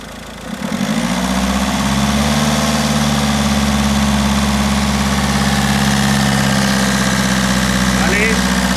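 A 2009 Peugeot 308 SW 1.6 HDi diesel engine starts up and settles into a steady, loud close-up idle with a low drone, briefly lifting slightly near the end.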